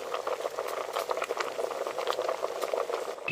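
Jaffna-style fried egg curry with tomato or tamarind bubbling steadily in a pot, a dense continuous simmering patter of popping bubbles heard close up with no voices.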